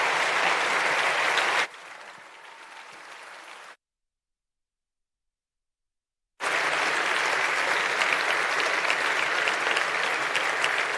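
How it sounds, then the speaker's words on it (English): Applause for two speakers at a convention event, loud and steady at first, dropping to a quieter patter, cutting to silence, then resuming as a full, sustained round of clapping. "Please give a very big round of applause to both of our speakers."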